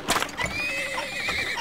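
A horse in the oil-drilling video game Turmoil gives a short, close whinny lasting under two seconds, clear and alone.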